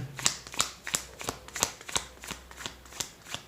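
Tarot cards are shuffled and flicked close up, a steady run of about ten crisp, evenly spaced snaps with faint background hum and no talking.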